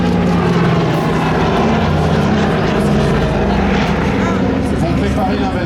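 A Douglas DC-3 propeller airliner based at Melun and painted with invasion stripes drones loudly and steadily overhead at a seaplane gathering in Biscarrosse, with a deep continuous engine roar throughout.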